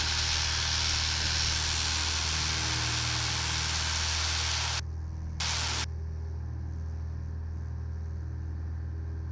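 Single-engine light aircraft N7762X at full power on its takeoff roll at a towered airport, a loud steady cockpit drone that cuts out in two brief gaps near the end before settling to a quieter hum.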